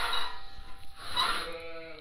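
Sheep bleating near a guillotine-style gate, several loud, close, wavering calls overlapping one another, with some outdoor noise between them.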